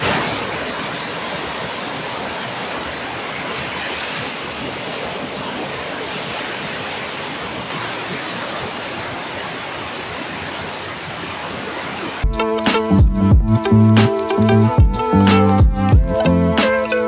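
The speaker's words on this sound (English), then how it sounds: "Let's enjoy the sound of the waves for a little bit." Steady broadband wash of waves rolling onto a city beach on Lake Michigan in downtown Chicago, continuous and fairly loud with wind, then an abrupt switch to a strongly tonal, rhythmic sound for the last few seconds.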